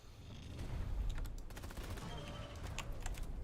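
Sniper gunfire in a Tabletop Simulator mod video game comes as a quick burst of sharp, fairly faint cracks in irregular succession over low rumbling noise.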